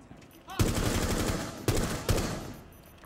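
Rainbow Six Siege gunfire in bursts: three loud sustained volleys of rapid automatic shots, close and harsh, with a short pause between each, over a noisy in-game background.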